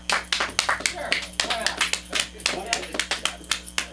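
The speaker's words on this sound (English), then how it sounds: "Do y'all clap if you hate Felix McNulty?" Comedy club audience at a stand-up show claps in a quick burst of irregular, close hand claps, mixed with crowd murmur and speech over a low hum.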